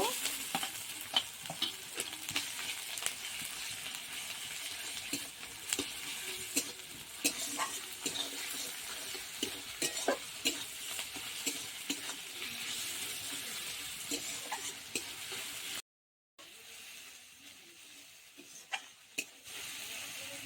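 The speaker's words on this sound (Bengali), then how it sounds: "পেঁয়াজ আর রসুনটাকে ভালো করে ভেজে নিয়েছি" Onion and garlic paste fries in a pan for egg curry, giving a steady close sizzle with frequent scraping stirs throughout, then a brief dropout to silence before the crackle resumes.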